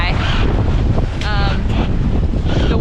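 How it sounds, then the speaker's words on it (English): Wind roars constantly across the microphone on a sailboat at sea in roughly one-meter waves, with the rush of water and spray around the hull and brief whistling bursts riding over the loud, steady noise. "The waves are probably already at a meter."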